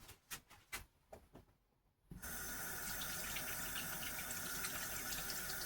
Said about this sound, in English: I gotta go wash my hands again